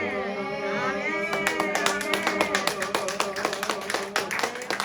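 A church congregation claps in a steady rhythmic beat that starts a little over a second in and continues evenly, moderately loud, layered over a sustained sung or spoken tone.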